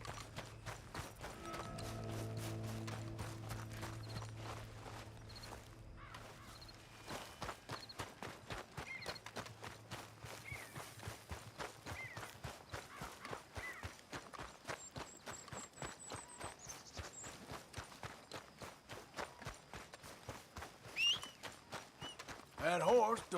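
Steady clip-clop of horse hooves in the video game Red Dead, walking at an even pace throughout, with a brief low tone near the start and faint sounds around it.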